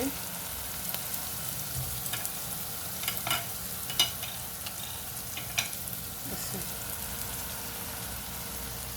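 Ginger and garlic sizzle and fry in a pan, stirred with a utensil that gives occasional scrapes and clicks over a steady, close crackle of hot oil.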